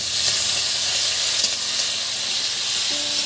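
Chopped potatoes dropped into a hot pan of frying onions for Bengali chira pulao (flattened rice pilaf), giving a steady, close, bright sizzle and hiss that holds evenly throughout with no voices.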